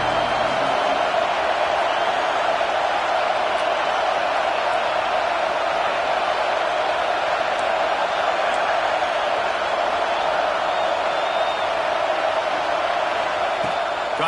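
A football stadium crowd roars steadily while the home team pins its opponent deep in its own end, a dense, continuous wall of noise that stays loud and even throughout.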